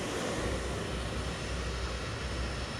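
Aircraft engine noise from a plane being marshalled and parked on its stand at Heathrow in fog, a steady loud broadband roar with constant low rumble held throughout, no voices.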